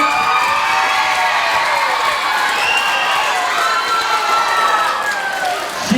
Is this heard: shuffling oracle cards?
no